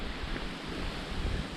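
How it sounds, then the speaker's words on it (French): Strong wind gusts by a river on a walk toward a bonfire, a loud rushing roar with buffeting on the microphone and swelling low rumble, continuous for the whole moment with no talk. "Il y a un bon vent."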